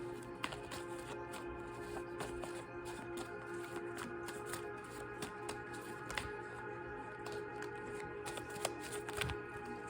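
A deck of cards is shuffled and split in a card reading, soft repeated riffling and flicking clicks over a steady background hum, fairly quiet throughout.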